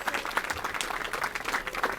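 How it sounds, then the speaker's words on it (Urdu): An audience applauds at a bridge opening ceremony with steady, moderately loud clapping from many hands throughout, no talk heard. "آپ کھڑے ہو کے بھرپور تالیوں میں ان کو خراج تحسین پیش کریں"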